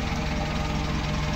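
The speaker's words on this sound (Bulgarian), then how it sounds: "Ето го мотора. Мърка, мърка." A Nissan 2-ton truck's carbureted engine idles close by with no throttle, a steady rhythmic low knocking chug and even rumble throughout.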